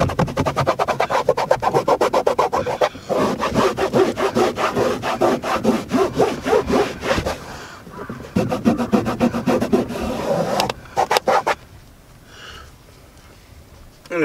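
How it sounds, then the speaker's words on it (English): A microfiber cloth rubs leather cleaner into a car's interior leather with quick, steady back-and-forth scrubbing strokes, close and continuous, pausing briefly before the strokes fade toward the end. "I'm gonna use the whitest part of the microfiber here. We're just gonna rub in."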